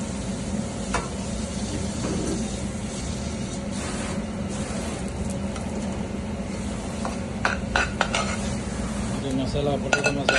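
Ghee hisses and sizzles on a masala dosa cooking on a hot griddle at a dosa stall in Canada, a continuous close crackle with occasional metallic scraping and clinks of a spatula, plus faint background chatter.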